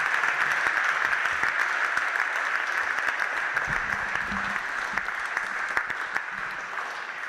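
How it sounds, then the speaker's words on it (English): Steady, sustained audience applause for the musicians and singers at the 2015 DLD College London awards ceremony, a broad, even wash of many hands clapping together without a break. "Could we have another round of applause for all of the musicians and singers?"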